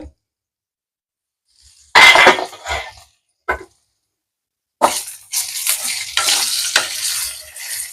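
Eggplants cook in a pan and give off bursts of sizzling hiss. A loud spurt is followed by a brief click, then a longer, uneven stretch of sizzle, with silent pauses between. No one speaks.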